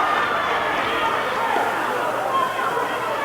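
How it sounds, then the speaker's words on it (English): Crowd noise at a high school wrestling championship in Ohio: a steady, loud wash of cheering and chatter from a packed gym, sustained throughout without breaks. "The crowd got into it."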